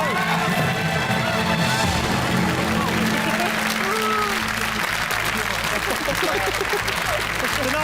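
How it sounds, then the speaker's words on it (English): Studio audience at a BBC quiz show applauding and cheering a winning team, with steady dense clapping and scattered whoops throughout, loud and close, mixed with some overlapping crowd noise. "Huge round of applause for the fantastic Millhouse Warriors."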